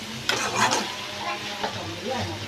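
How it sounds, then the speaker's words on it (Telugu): Onions fry in a pan while prawn biryani and prawn curry are being cooked: a steady low sizzle with a few scraping stirs near the start, with faint voices briefly in the background. "ఓ పక్కన ఉల్లిపాయలు వేగుతున్నాయా వేగుతున్నాయి"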